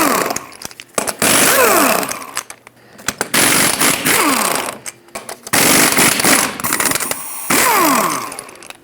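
Power tool with a 21mm socket spinning off the eight lug nuts on a 1999-2007 Ford F-350 front wheel, several loud whirring bursts of a second or two each, separated by brief pauses.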